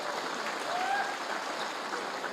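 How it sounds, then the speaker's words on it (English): Crowd applauding at the Hornbill Festival arena after a donation announcement, a steady wash of clapping with some faint voices mixed in. "Big round of applause."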